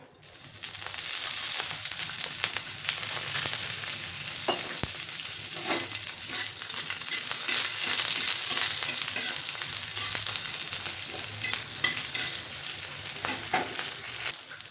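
Green chillies fry in hot oil in a sustained, crackling sizzle, with scattered pops and occasional stirring scrapes throughout a long, close, even stretch.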